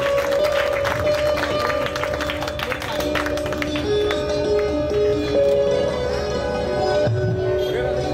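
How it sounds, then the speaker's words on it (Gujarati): An audience at a school welcoming ceremony for a guest claps in a steady, dense patter of applause, with a voice speaking over it. "તાળીઓમાં કરકસર નહીં રાખીએ"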